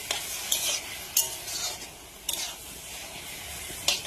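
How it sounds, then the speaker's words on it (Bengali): Taro leaves fry in a pan, a steady sizzle broken by four bright scraping stirs spaced roughly a second apart, close and fairly quiet. "পাতা ভাজি করছি।"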